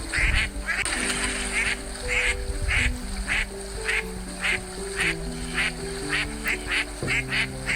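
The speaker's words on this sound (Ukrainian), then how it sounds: "Качка крякає кря-кря." Repeated duck quacks in a regular rhythm over a musical backing of sustained tones, fairly loud and close.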